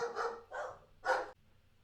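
Three short barks from dogs at moderate distance, irregularly spaced, followed by quiet room tone with no talking.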